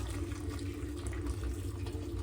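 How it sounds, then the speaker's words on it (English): Boiled water running steadily into a curry pot over lamb, a quiet, even pouring stream heard close with a low background hum. "We're going to add a boil of water."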